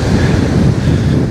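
Stormy sea at Anapa beach during a kitesurfing session: loud, steady roar of surf and heavy wind buffeting the microphone, continuous and close, with no talk over it.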